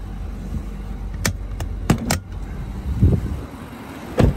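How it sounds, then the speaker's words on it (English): A Nissan Armada truck idles with its hood open. A low, steady engine rumble runs throughout, broken by a few sharp close clicks and knocks nearby. "I do have the truck running"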